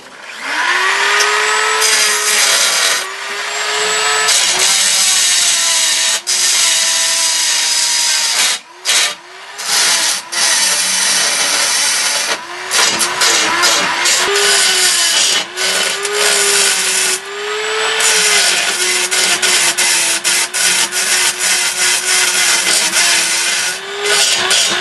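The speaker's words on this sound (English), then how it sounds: "I got my Dremel tool with it set up" A high-pitched Dremel rotary tool whines steadily while grinding down metal welds, its pitch wavering as it bites, with a few brief pauses between passes.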